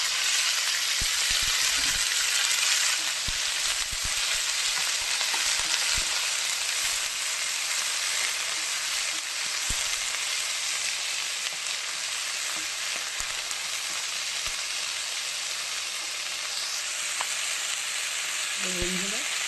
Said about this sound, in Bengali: লাল শাক ভাজবো, শুকনো লঙ্কা ফোড়ন আর কাঁচা লঙ্কা ফোড়ন দিয়ে দিয়েছি।